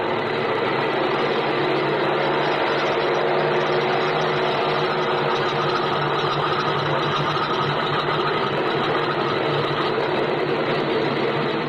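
A steady airplane engine idles before takeoff as a radio drama sound effect, a continuous loud droning rumble with no pauses or voices.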